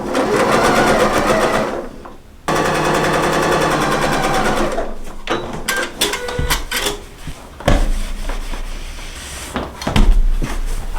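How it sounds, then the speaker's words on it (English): A sewing machine runs loud and close, stitching fabric pieces for a fish quilt; the fast rattling stitch runs in long continuous bursts with short pauses and some handling clatter in between. "And now I'm going to stitch this piece"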